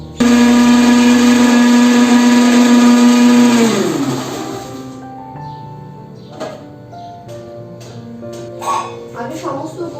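An electric blender grinds dried spices and other ingredients into a paste with a loud, steady whine that winds down after about four seconds. A voice and faint kitchen clatter follow.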